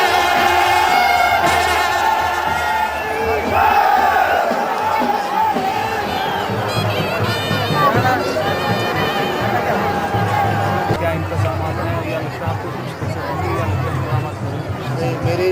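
Large festival crowd at the Bhunda Mahayagya in Rohru, a dense outdoor babble of many voices with shouts and whoops, loud and continuous throughout.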